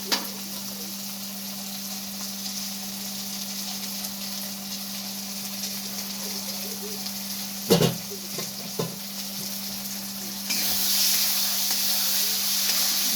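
Chilli chicken fries in a pan with soy sauce as it is stirred, producing a continuous low sizzle with a steady hum beneath, a couple of sharp utensil knocks partway through and a louder burst of hiss near the end.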